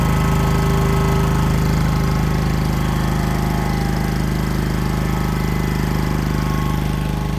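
A rare old air compressor runs under pressure, its motor droning loud and close in a steady, even chug with no pauses.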